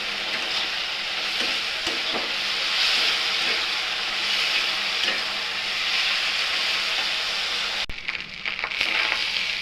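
Paneer fries in a pan with salt, turmeric and chili powder, giving a loud, steady sizzle with faint scraping stirs, then a brief clatter near the end.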